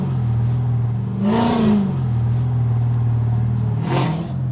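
An 800 bhp Hellcat car engine idles with a deep steady drone, then revs hard in a loud rising surge, settles, and revs again briefly near the end, up close.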